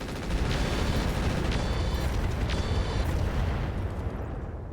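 A Tarantula mech blows up in the video game RogueTech, with sustained, loud, roaring explosion rumble and a few sharp crackling bursts over nearly five seconds of continuous battle noise.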